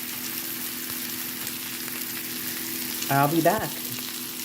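Chicken browns in a pan for an easy one-dish fall baked chicken, giving a steady close sizzle and fry throughout, with a brief stir or clatter near the end.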